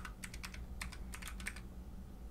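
A password is typed on a computer keyboard while setting up an Android app signing key: quiet, close keystrokes in quick irregular bursts with short pauses, and no talking.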